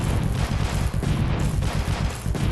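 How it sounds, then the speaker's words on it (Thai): Rapid, dense gunfire pours out in a continuous loud barrage throughout, in the mobile tower defense game Final War Frozen Defense. "กระหน่ำยิงไปก่อนเลย"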